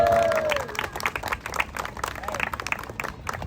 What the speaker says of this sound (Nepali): ल हामी उहाँको लागि ताली बजाइदिउँ